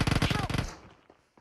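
Automatic gunfire in PUBG Mobile rattles off in a fast, loud burst of rapid shots lasting over half a second, then fades into a short echoing tail with a couple of faint knocks.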